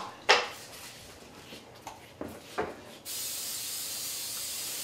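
Cooking spray is lightly misted over a dish for beef enchiladas: one short hiss, a few soft kitchen knocks, then a longer steady spray that runs to the end.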